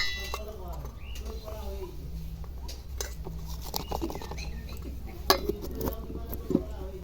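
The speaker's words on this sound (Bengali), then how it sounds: "এবার ঢাকনাটা আমি লাগিয়ে দেবো" A lid is set on a cooking pot while steamed prawns in bottle-gourd leaves are prepared, giving light metallic clinks and two sharper clanks toward the end, under a speaking voice.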